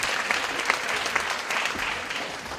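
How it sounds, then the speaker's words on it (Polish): Audience clapping after a psychology talk at a Polish conference event, a dense, even burst of applause from a seated crowd, steady and fairly loud for the whole stretch. "Wielkie brawa."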